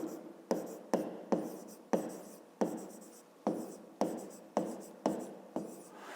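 Pen strokes scratching on paper as figures are written down for a fifth-grade maths exercise, nine short rhythmic bursts each fading quickly, close and clear with no talking.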